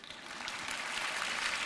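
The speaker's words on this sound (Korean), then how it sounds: "박수가 나와야 되는 거죠." Applause from a church audience, a steady dense wash of clapping that holds at an even level throughout, with no voices standing out.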